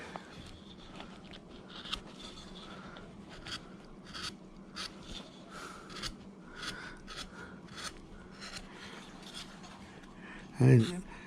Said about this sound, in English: the technique on how I shape my carvings is with a gouge, and work that over to where that thumb will be